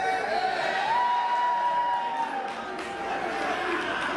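Crowd at a professional wrestling street fight show cheering and whooping, with a sustained whistle-like tone rising above the noisy roar; the crowd sound stays loud and continuous.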